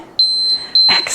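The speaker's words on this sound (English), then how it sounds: "When it beeps again, this one's quick." A workout interval timer gives three short, sharp electronic beeps in quick succession, loud and close, followed by a brief rustle of movement.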